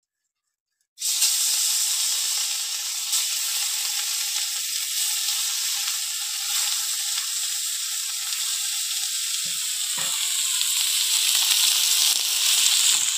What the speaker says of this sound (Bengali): মৃগেল মাছটা লবণ হলুদ মাখিয়ে নিয়েছি। এবার ভেজে নেব।